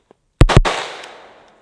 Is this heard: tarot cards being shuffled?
no